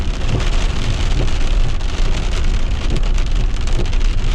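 Heavy rain pours down in a storm with a microburst, a loud, dense, continuous hiss and patter of drops hitting a surface, steady throughout with no voices.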